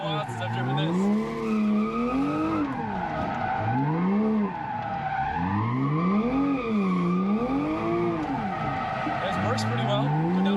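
A car is driven hard around a motorsports park track, its engine revving up and down in repeated rising and falling sweeps, loud and close from inside, with people talking over it.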